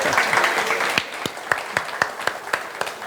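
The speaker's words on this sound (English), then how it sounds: "Please clap for me." Hotel-institute students applauding during a cooking masterclass, dense clapping at first that thins into a string of distinct, rhythmic claps close by.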